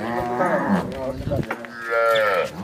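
A Jersey-Cholistani cross cow moos twice on a farm, loud, close, drawn-out bellows separated by a short pause with light rustling between.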